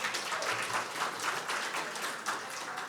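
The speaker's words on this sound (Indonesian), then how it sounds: "Tepuk tangan untuk kita semuanya." Applause at the launch event of a national achievement center's website, a steady, dense wash of many hands clapping together, fairly close and continuous throughout with no talk over it.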